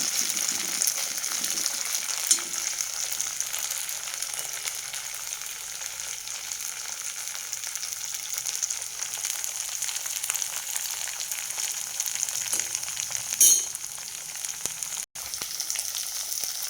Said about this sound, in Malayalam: നന്നായിട്ടൊന്ന് ഫ്രൈ ആയിട്ട് വെന്തിട്ട് വരട്ടെ